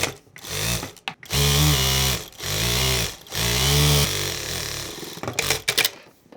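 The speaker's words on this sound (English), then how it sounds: "Now I am stitching the other edge." A sewing machine stitches along the edge of a cloth bag in three sustained bursts of whirring, with brief pauses between runs and quieter handling at the end.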